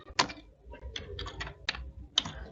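Several quick, close keystrokes tap out a short command on a computer keyboard in irregular bursts, with no talking.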